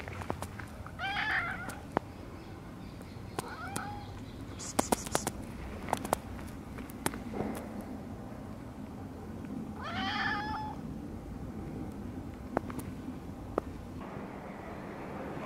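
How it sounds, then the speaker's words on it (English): A cat at the Eel Pie Island shipyard meows a few times, soft and fairly close, with a couple of separate calls spaced apart over low outdoor background and occasional clicks. "Here is the beautiful cat of the shipyard here at Eel Pie Island."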